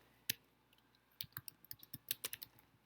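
Someone types a folder name on a computer keyboard, with a single click followed by a quick run of light, close key taps, faint overall.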